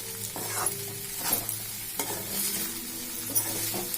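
Vegetable fried rice stirred in a hot pan, with steady sizzling under repeated scraping strokes of the spatula at an even rhythm, close and clear, no talking.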